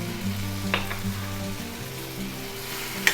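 Chili and coriander powder sauté in a hot pan with oil, giving a soft steady sizzle and a few light stirring scrapes.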